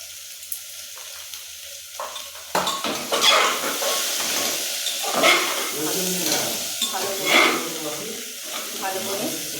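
Spices with salt and cumin powder are stirred and fried in a pan for khichuri, a steady sizzle with scraping stir strokes and occasional clinks of the spoon against the pan.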